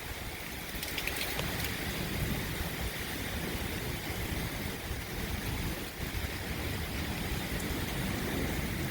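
Heavy thunderstorm rain at Dauphin Island, Alabama pours down in a dense, steady hiss with low rumbling underneath, unbroken for the whole stretch. There is no talking.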